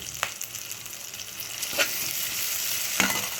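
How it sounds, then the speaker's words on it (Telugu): Curry leaves hitting hot oil in a pan, a continuous bright sizzle with a few sharper crackling pops, steady and close, no talking. "నేను ఇప్పుడు కొంచెం కరివేపాకు వేసేసుకుంటాను"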